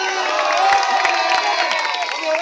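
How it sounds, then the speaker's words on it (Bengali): A crowd at a village football match in Faridpur cheers and applauds the captain named player of the match, a loud, dense burst of shouting and clapping close by throughout. "সবাই জোরে একটা হাততালি দাও"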